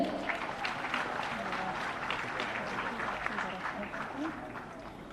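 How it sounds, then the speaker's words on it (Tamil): An audience at a Tamil hospital book-launch event claps steadily, a moderate, fairly distant wash of applause lasting throughout with a voice faintly over it. "ஒரு பலத்த கைத்தட்டலுடன்."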